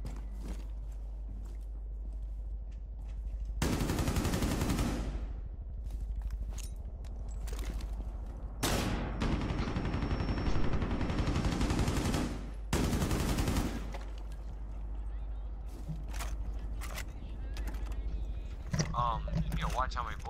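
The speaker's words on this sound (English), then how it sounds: "You know, watch how many bullets you're shooting there" Gunfire in the game Rainbow Six Siege, several sustained loud bursts of rapid automatic shots separated by quieter gaps, with voices talking in between.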